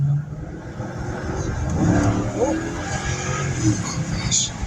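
A 1969 Plymouth Road Runner with a Hemi engine revs hard up close, a loud rough rumble that swells and holds with some tire noise in the mix.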